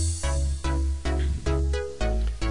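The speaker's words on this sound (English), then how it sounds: "Izotope stutter edit VST on there and that's now triggered by a MIDI file" Synth chords and bass chopped by an iZotope Stutter Edit plugin into rhythmic stuttering bursts, with abrupt gated cuts and retriggers every half second or so, loud and up front.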